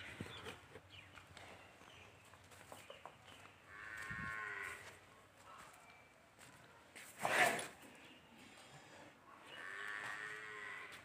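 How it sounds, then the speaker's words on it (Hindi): Water buffalo lowing at a village home in Uttar Pradesh, India, heard as a few drawn-out moos, one louder and closer, with faint rural background sounds in between. "ये भैंस है"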